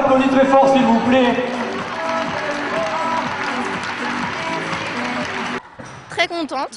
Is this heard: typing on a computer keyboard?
no